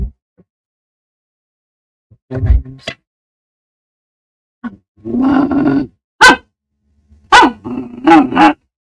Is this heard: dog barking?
yes